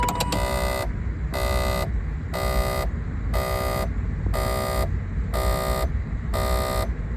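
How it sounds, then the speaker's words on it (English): A BMW Z8's headlights-left-on warning buzzer sounds as seven harsh, evenly spaced buzzing pulses over a steady low engine hum, loud and insistent. "Accidentally leave on the headlights in the Z8, and it gives you a rather angry warning"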